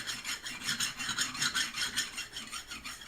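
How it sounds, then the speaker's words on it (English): A flat file rubs over the machined surface of a differential part from a 1992 Hilux Eaton Trutrac swap, giving quiet, close, rhythmic rasping strokes, about a dozen back-and-forth passes in even succession. "take a flat file and check this surface for any burrs or irregularities"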